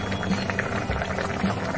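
Shahi rui palak, a rohu fish curry with spinach, boiling in a pot up close: steady bubbling with brief knocking rattles over a short stretch.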